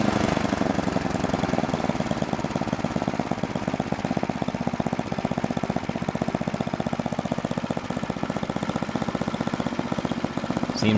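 Noma 8 hp 27-inch snow blower engine idling after a cold start, a steady rapid thumping chug held at an even pace for the whole stretch, close and moderately loud with no talking.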